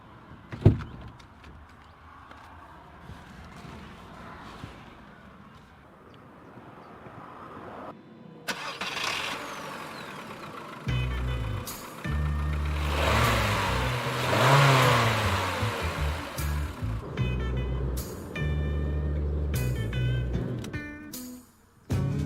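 A car in Need for Speed ProStreet: quiet mechanical rustling and a door, then the engine cranks, catches and revs loudly in rising and falling surges before cutting off abruptly, close and alone.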